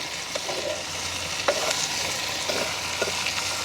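Green mango pieces sauté in oil in a pan in a village kitchen, with a steady sizzle broken by several sharp scrapes and knocks of stirring, close by and with no voices.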